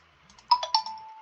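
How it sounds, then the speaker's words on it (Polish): A short melodic ringtone chimes in a Toca Boca video game, a few bright notes in quick succession ending on a sustained tone, heard alone and fairly clear. "znowu twój telefon gra, wycisz go proszę"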